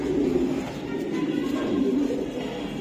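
Giribaz high-flying pigeons cooing steadily in a loft, a continuous low murmur of several birds close by with no talk over it.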